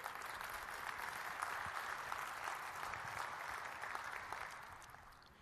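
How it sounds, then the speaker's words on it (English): A seated audience at a defense conference gives a sustained round of applause, a dense steady patter of clapping heard from a moderate distance that fades slightly toward the end, with no voices. "give yourself a good round of applause for being heroes"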